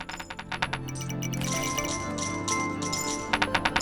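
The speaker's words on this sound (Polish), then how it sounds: "Bo tu nic nie słychać, tylko stukot monet." Bright metallic clinks in quick bursts at the start and end, with a sustained chiming tone between, as coins tumble in the video game Kingdom: Nothing Lasts.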